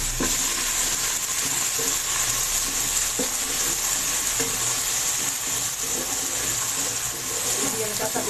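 Ginger garlic paste and green chillies fry in a hot pan with onions, giving a steady, close sizzle throughout with occasional clicks from stirring.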